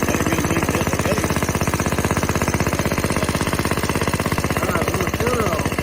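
An antique lawn mower engine runs close and loud with a steady, fast thumping idle throughout, a single spoken word briefly over it.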